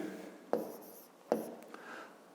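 A pen writes out a fifth-grade maths solution on paper, with soft continuous scratching and two sharper taps of the pen, close and quiet.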